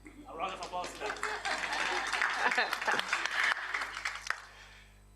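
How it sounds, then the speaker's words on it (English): Audience applause at a policy and deliberation challenge final, a sustained wash of many hands clapping that swells and then fades, with a voice speaking over it near the start. "A round of applause to them."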